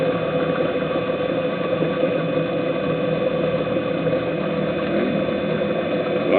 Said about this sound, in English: I'm power honing. I'm moving the hone back and forth,